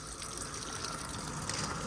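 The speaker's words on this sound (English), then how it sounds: "the water starts squirting out underneath" Water squirting out from the boiler drain valve underneath a Burstner Lyseo Harmony 700 motorhome, a steady faint hissing gush running continuously without pause.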